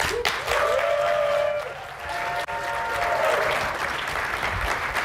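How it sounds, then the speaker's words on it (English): Lukewarm applause from a tech summit audience at a Qualcomm Snapdragon event, a steady wash of clapping that swells, dips briefly, then fills the hall again, with faint voices mixed in. "That's fairly lukewarm applause"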